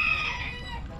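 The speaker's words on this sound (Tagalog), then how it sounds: "Golden pheasant." A male golden pheasant at an eco park gives one short, harsh, raspy call that fades within a second, close and fairly loud.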